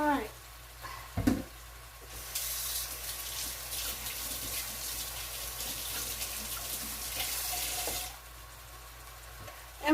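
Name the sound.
chicken and vegetables searing in a pan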